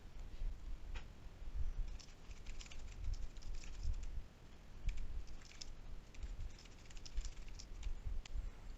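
Soft, irregular clicks of fingers typing a note on a computer keyboard, scattered across several seconds under a steady hiss, with no one speaking.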